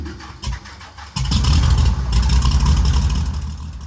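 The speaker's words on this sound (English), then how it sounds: "The 4-blade propeller begins to spin, and a puff of exhaust belches out a pipe mounted on the underside of the nose." An aerobatic plane's engine with a four-blade propeller coughs through a couple of short starting bursts, then catches and roars into a loud, steady, close running drone.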